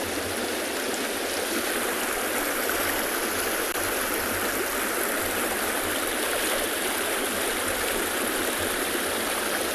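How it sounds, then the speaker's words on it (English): Stream water rushes steadily past a small rock face at a cement crossing on a safari track, a loud, continuous broadband roar with no break throughout. "the water's coming down at quite a pace"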